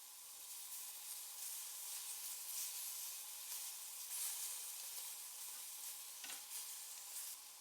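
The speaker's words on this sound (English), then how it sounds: "Place the marinated beef cubes into the pan" Marinated beef cubes sear in a hot, dry griddle pan with a steady close sizzle and hiss, continuous and alone without talk.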